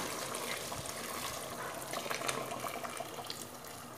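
Water pours steadily into a cooking pot for a chickpea stew, a continuous hissing splash that stays close and moderately loud the whole time, with no voices.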